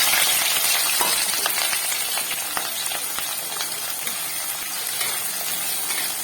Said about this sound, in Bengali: পেঁয়াজগুলো দিয়ে পেঁয়াজগুলোকে একটু ভেজে নেব।